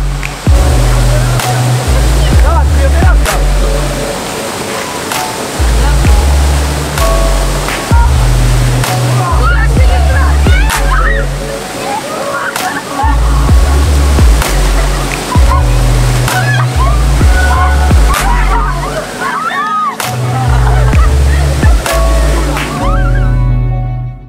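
Rushing water of an icy mountain river surges steadily as someone wades in, a loud continuous roar and slosh close by, with deep rhythmic thumps of wind or handling noise and occasional voices underneath.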